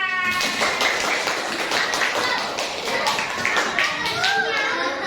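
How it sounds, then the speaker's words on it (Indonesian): Classroom group clapping during a coaching session, fast scattered claps from many hands mixed with children's excited voices and squeals, close and lively throughout. "Nah, tepuk tangan."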